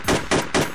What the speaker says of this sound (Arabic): وانطلقت رصاصات مسدسه لتنسف أنبوبة الليزر في مدفع أحد الرجال